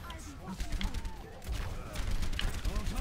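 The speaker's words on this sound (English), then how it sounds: "There's three shooting at me at once." Rapid gunfire from several snipers in the online shooter Overwatch, cracking repeatedly over dense game effects and voices, with the shots running on through the whole stretch.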